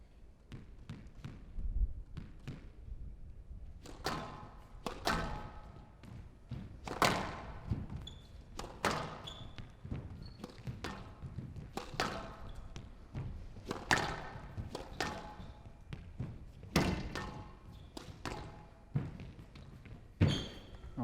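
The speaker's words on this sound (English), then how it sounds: "Dessouky, cross-court drop into the nick." Squash ball strikes and wall thuds in a rally at a professional match echo through a court at a steady, irregular rhythm, with squeaking shoes between hits and faint crowd noise behind.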